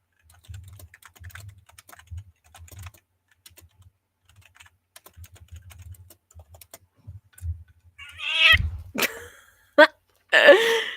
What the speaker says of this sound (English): She always tries to climb on that damn keyboard.